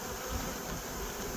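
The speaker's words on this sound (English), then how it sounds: "there's fanning going on" Honeybees fan at the hive with a brief, steady, close buzzing drone that stays level and even throughout.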